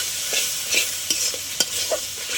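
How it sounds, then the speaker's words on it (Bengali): Masala paste with salt and sour yogurt is stir-fried for sesame chicken, a loud, close sizzle broken by brisk scraping strokes of a spatula against the pan, with several sharp clicks along the way. "মশলাটা আরও ভালো করে কষিয়ে নিতে হবে।"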